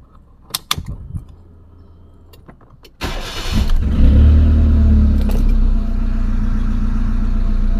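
A KIA Picanto with an automatic transmission starts up after a few clicks and light knocks, its engine catching loudly and settling into a steady, close idle during a test.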